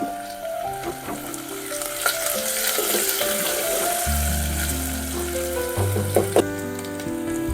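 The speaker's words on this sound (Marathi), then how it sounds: "तेल गरम झालेलं आहे कांदा टाकून घेऊ लसण अद्रकचं पेस्ट टाकू" Onion and garlic-ginger paste frying in hot oil for a spicy goat mutton curry, a continuous close sizzle with stirring scrapes and background tonal hums running underneath.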